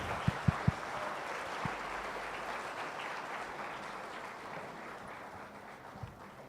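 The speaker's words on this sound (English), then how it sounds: "Everyone give a huge round of applause." Audience applause at a cloud computing community event, steady moderate clapping from a room of people with a few sharp close claps near the start, slowly fading.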